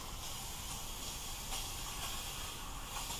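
Brake cleaner sprays in a continuous close hiss over a transmission spring during a 4L80E transmission rebuild, broadband and unbroken throughout.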